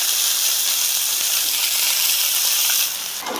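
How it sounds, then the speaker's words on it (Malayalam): Chopped onion sautéing in a pan until golden gives a steady, loud, even sizzle and hiss that runs throughout, then eases slightly near the end. "ഇനി ഇതിൻ്റെ ഒരു ഗോൾഡൻ കളർ ആവുന്നത് വരെ നമുക്കിതൊന്ന് വഴറ്റി കൊടുക്കാം"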